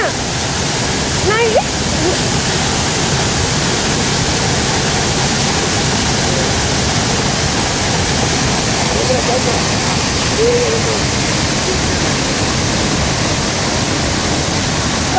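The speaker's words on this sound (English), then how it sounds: "As we went closer to the waterfall, we could see more waves and foams on the water with enormous sound." Hogenakkal waterfall roaring continuously up close, a dense, loud wash of falling water that never lets up, with faint voices barely surfacing through the noise.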